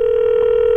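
A telephone line tone hums steadily while a call is placed back to a viewer, one continuous loud, pure tone lasting under a second with no voices.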